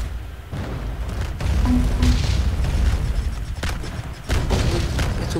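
Cannon fire and explosions in the Roblox game Pirate Clash, several dull booms and bursts in succession, loud and close over a continuous low rumble of battle noise.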